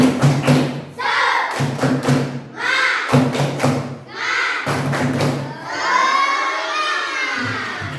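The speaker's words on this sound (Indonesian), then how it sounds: "kita melakukan ice breaking terlebih dahulu dengan melakukan tepuk semangat" Elementary school children clap in a rhythmic spirit-clap pattern of quick bursts and pauses, chanting and shouting together loudly, ending in a sustained group cheer.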